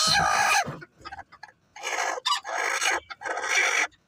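Farm chickens calling up close: a hen's clucks and a rooster's loud crowing come in several strong bursts separated by short pauses, with no talking over them.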